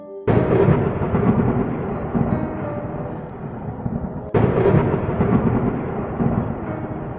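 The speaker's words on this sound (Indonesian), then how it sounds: "tiba-tiba suara petir menggelegar sangat kencang sekali" Loud thunder rumbles in a long, rolling peak, then a second sharp crack breaks out and keeps rumbling heavily.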